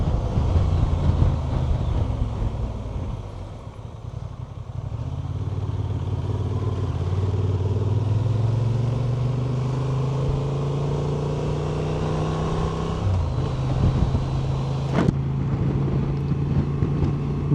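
A Ducati Multistrada V4S motorcycle is ridden along, its engine droning steadily with shifting pitch under strong wind rush, rising and falling through gear changes, close and continuous.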